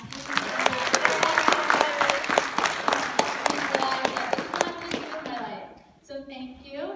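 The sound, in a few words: audience clapping for Matthew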